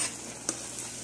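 Sweet potato cubes drop into melted sugar in a pan, giving a faint sizzle and stirring hiss with one brief louder burst partway through, with no talking.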